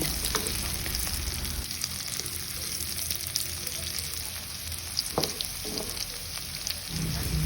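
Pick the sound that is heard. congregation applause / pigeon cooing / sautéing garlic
sautéing garlic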